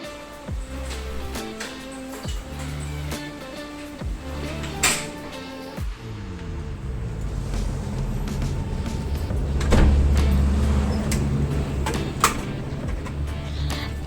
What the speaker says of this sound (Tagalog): Wala nang iba, kundi ang matibay kong tricycle.